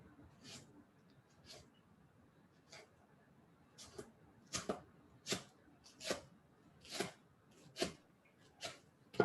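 A knife slices through a mango on a cutting board in a cooking class: a series of short, faint cuts, sparse at first and then a more regular run of about eight strokes toward the end.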